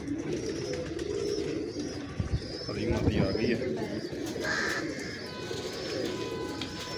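Pigeons at a breeding setup coo softly and repeatedly, close by, while someone talks over the birds.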